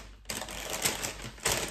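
Packaging of a wool craft kit crinkles in a brief close flurry of crackly rustling with a couple of sharper crunches, without talk.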